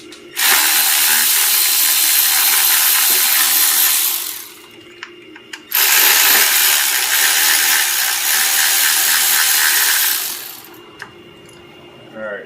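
Power tools whir on an LS1 engine while a throttle cable bracket is removed, two long bursts of several seconds each with a short pause and faint clicks between them.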